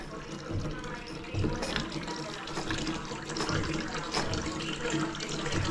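Steady rush of water pouring from a faucet that won't shut off, continuous and fairly close, with faint voices and clatter in the background.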